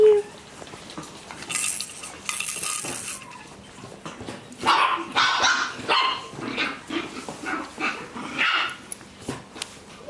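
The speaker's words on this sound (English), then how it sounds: "You see the puppies playing." Shih Tzu puppies at play give out a scatter of short, high yaps and whimpers, close by, mixed with light clattering of dishes or bowls and no talk.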